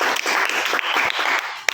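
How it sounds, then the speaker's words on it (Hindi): A classroom of students breaks into a brief burst of applause, dense clapping from many hands that runs steadily for under two seconds before stopping, with no talking over it. "वेरी गुड, तालियां बजाइए।"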